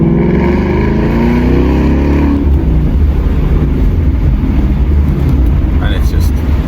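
A Roush-tuned 2017 Ford Mustang GT V8 with around 500 bhp accelerates hard in second gear, a loud, close, rising engine roar that swells then settles into a dense rumble.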